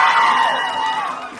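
A comedy-club audience of women cheers and whoops loudly together, a dense, bright wash of voices close to the stage that fades slightly toward the end.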